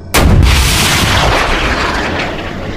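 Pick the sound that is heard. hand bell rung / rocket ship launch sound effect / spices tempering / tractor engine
rocket ship launch sound effect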